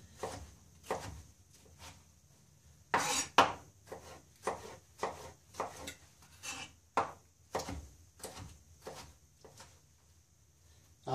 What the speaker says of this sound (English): we're just going to chop it up kind of coarsely